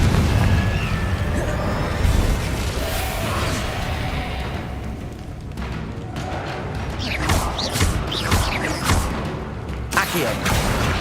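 Confringo blast spells from Hogwarts Legacy burst repeatedly in the game, a series of loud booms and crashes in the later half over a dense game soundscape, with a voice present at times.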